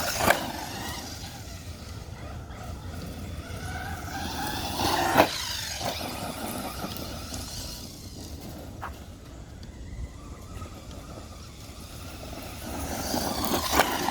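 A Traxxas Rustler 4X4 RC car whines and buzzes as it drives and spins out, its electric motor rising and falling with a few brief scuffing bursts, steady and fairly close with no speech.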